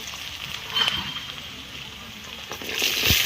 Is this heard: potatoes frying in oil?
yes